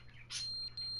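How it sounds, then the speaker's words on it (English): A fire alarm in a video game gives a short high electronic beep, then a sustained shrill tone that breaks off briefly and resumes, faint and alone. "There's a fire alarm here?"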